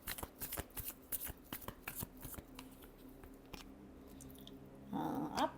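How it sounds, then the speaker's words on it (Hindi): Tarot cards shuffled by hand, a quick run of crisp riffling flutters up close, slowing and fading before a brief rustle at the end. "Last shuffle."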